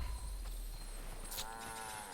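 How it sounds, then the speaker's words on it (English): A brown cow in the video game Guild Wars 2 lets out a short, fairly faint moo over a low game-world ambience, with no talking. "I got a brown cow."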